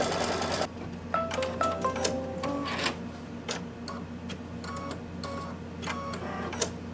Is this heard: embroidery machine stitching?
yes